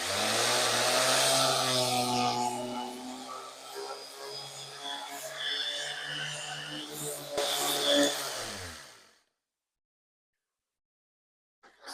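Coarse 60-grit sandpaper rubbing on varnished boat trim, a loud, continuous rasping scrub that runs for about nine seconds, swelling and easing with each stroke before cutting off into silence.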